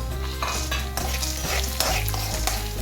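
Garlic, peanuts and roasted gram fry and crackle in a pan, with a utensil stirring and scraping against the metal in steady strokes, loud and close, with no voices.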